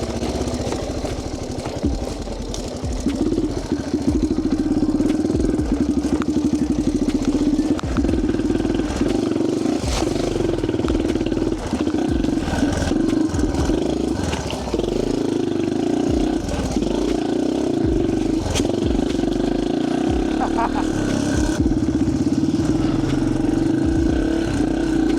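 An old Yamaha TTR230 dirt bike engine runs steadily and loudly close by for the whole stretch, its throttle rising and falling in a continuous drone while the bike is ridden.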